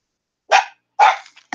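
A dog barks two loud, close barks about half a second apart, followed by a couple of shorter, softer yips.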